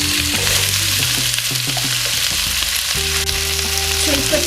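Leeks and potatoes sizzle steadily in a hot pot as they are stirred, a constant loud frying hiss with clinks and scrapes of the spoon against the pot.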